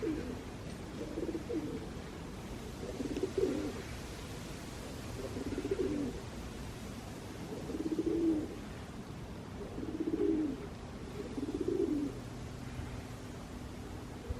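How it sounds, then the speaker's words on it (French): A pigeon on a roof coos in soft, repeated low rolling phrases every couple of seconds, moderately distant over a steady background hiss. "Je l'entends roucouler sur le toit depuis tout à l'heure."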